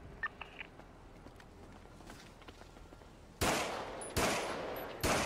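Loud bursts of gunfire in a video game shootout near a construction site, three heavy blasts arriving late after quieter scattered clicks and faint distant pops.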